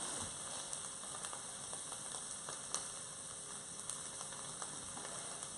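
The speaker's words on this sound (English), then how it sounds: "the butter's just melting down now" Butter melts and sizzles around potatoes in a hot pan, a steady dense crackle with scattered sharper pops throughout, close and fairly loud with no voices.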